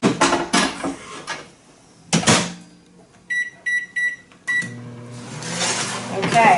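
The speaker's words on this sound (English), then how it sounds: "we're going to start out in the microwave at 5 minutes" A microwave oven is set for five minutes to cook grits, with a door clunk, a quick series of keypad beeps and then a steady low hum as it starts running, amid kitchen clatter.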